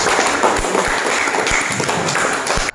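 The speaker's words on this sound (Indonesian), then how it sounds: "Kasih aplaus" Students in a classroom clap together in steady, dense applause that fills the room at close range for a few seconds before stopping abruptly.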